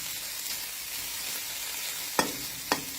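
Fish roe stir-roasted in a pan gives a steady soft sizzle, broken by two sharp scraping clacks of a utensil against the pan near the end.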